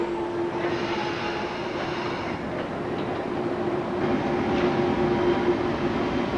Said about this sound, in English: Away we go on the shiny subway train